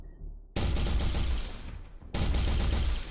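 Rapid SMG gunfire in the game Unreal Tournament 4, two sustained loud bursts of automatic fire separated by a brief pause, no talking.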